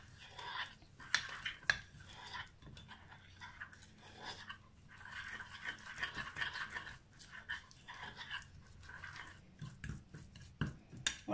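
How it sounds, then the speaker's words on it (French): Chicken pieces and salty olives being stirred together in a Cookeo multicooker pot, a spoon clinking and scraping against the metal in repeated bursts, close and moderately loud, with no voice present. "Je mélange tout ça"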